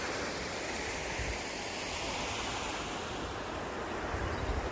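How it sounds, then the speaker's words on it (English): Canal overflow water pours down into the River Stour below, a steady, dense rushing roar that holds evenly throughout without any voices. "this is an overflow from the canal, which will pop into the River Stour below"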